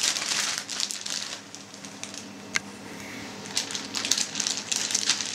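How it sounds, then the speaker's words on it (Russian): Plastic zip-lock bags crinkle and rustle close by in a kitchen while pears are prepared for sous vide cooking, a steady stream of crisp crackles with one sharp snap midway. "Теперь берем зип-пакеты."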